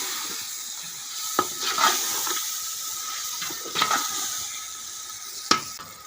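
Tomatoes frying in a pulao pot over a wood fire, giving a soft continuous sizzle. Scrapes and clinks from stirring come every couple of seconds, close by, with no talk.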